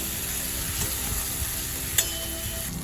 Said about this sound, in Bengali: এবার মশলার সাথে আলুর সাথে খুব ভালো করে কষিয়ে নেব।